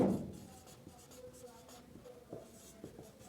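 Chalk scratching and tapping on a board during a physics lesson on light reflection, a quick run of short strokes after an opening bump, fairly close and clear.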